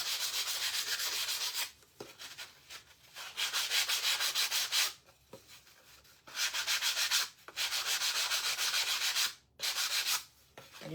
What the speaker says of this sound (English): I am just going to sand this off a little bit